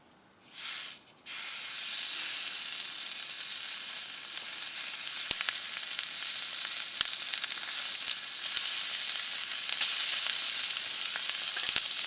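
Two thick pieces of bacon sizzle in a pan after bannock crisps, a steady loud hiss with scattered crackles and pops throughout, no voices.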